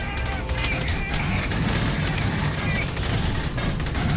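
Dense, continuous gunfire and explosions from the video game Aliens: Colonial Marines fill the whole stretch, loud and relentless, with no clear pauses between shots.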